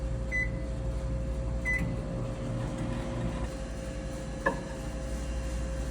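A microwave oven runs steadily while heating a gel solution for gel electrophoresis in a lab, a constant low hum and whir with a couple of faint beeps and a small clunk near the end.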